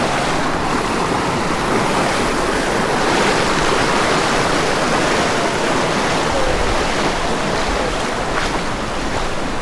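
Continuous rushing, splashing river water as a motorbike fords a cold river at a campsite, loud and close with a steady wash of noise throughout and no clear talk.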